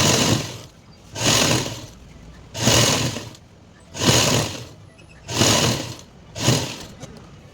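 Six evenly spaced bursts of a sewing machine whirring through pencil pants fabric, each about a second long with brief quiet gaps, loud and close with no voices.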